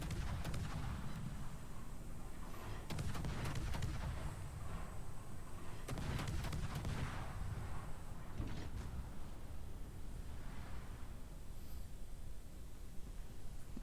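Warship guns fire HE shells in a naval game, Operation Akizuki in Narai, with booming salvos at irregular intervals over constant low battle rumble and background noise.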